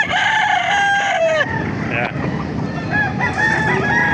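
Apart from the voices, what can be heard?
rooster crowing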